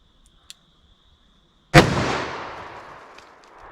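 A single sharp gunshot from a .357 or .44 Magnum revolver firing a Buffalo Bore lower-recoil round into a ballistic gel block, loud and close, ringing out in a long decaying echo after a quiet lead-in.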